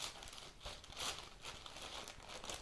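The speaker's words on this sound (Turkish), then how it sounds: "Önce şu kargo poşetini açayım." Loud, continuous crinkling and rustling of plastic close by, like a shipping bag being handled and pulled open.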